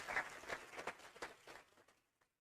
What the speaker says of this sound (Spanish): Un aplauso también para nuestros panelistas.